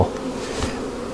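Honeybees drone in a steady, close buzz during an open-hive inspection, a continuous hum with no pauses and no voices.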